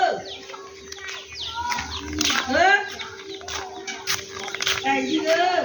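Chickens cluck and chirp intermittently at close range, with people talking over and between the calls and a steady tone running underneath.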